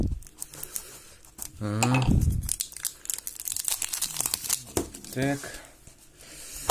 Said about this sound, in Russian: давайте быстренько открывать яйцо